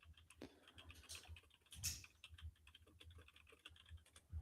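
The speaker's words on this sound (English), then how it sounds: "A lot of typing going on." Quiet, close keyboard typing, a quick irregular patter of key clicks with a few brief pauses, no voices.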